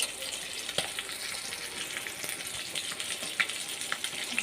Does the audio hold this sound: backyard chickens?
no